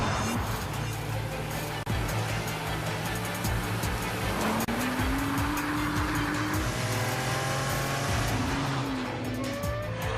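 Nissan GT-R supercar accelerating hard, a steady loud engine roar with rising gear pulls and occasional tyre squeal, continuous and close throughout.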